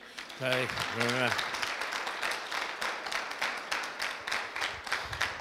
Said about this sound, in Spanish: Un aplauso a este secretario